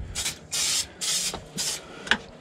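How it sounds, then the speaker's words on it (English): Oil is sprayed onto the drive chains of an Argo 8x8 amphibious vehicle in four close hissing bursts with short pauses between them, ending in a small clunk. "But I'm going to spray what I can get through here,"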